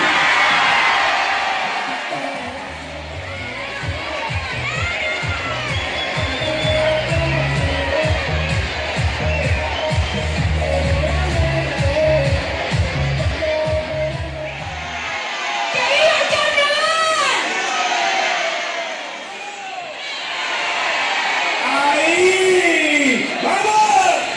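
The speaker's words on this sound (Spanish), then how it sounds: "darle la enhorabuena a Rocío, ponte fuerte aplauso para ella" Carnival awards ceremony crowd in Jaraíz cheering, whooping and applauding for winning comparsa groups, loud and sustained, with a rhythmic thumping beat in the first part and a voice over a loudspeaker later.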